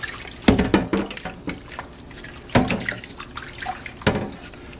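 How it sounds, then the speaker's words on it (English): Water runs and splashes while a meat sauce pot is wiped out with a sponge in a sink, with a few louder sloshes and clunks over a steady trickle, close by. "Wash up our meat sauce pot, just using a sponge and more or less just wiping it"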